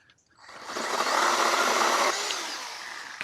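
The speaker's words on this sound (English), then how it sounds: "I can cut down all these branches with this Toro chainsaw here." A Toro 60V Flexforce cordless pole saw cutting tree branches, its motor whirring up and holding a steady buzzing cut for a couple of seconds before winding down.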